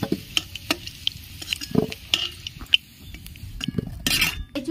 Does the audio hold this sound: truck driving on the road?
no